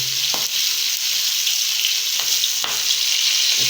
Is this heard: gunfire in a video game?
no